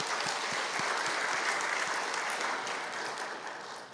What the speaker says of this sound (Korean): 우리 하나님께 박수의 영광 돌리겠습니다